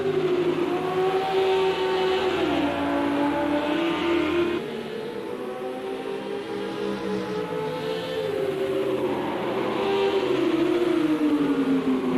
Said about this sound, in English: close up the gap and put that Ferrari in the rearview mirror of that Audi